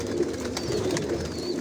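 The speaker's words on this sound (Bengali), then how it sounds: "আর এগুলো সব বিদেশি কবুতর" Foreign racer pigeons coo in a loft, a continuous layered murmur of several birds repeating low pulsing calls, close and fairly loud with no speech.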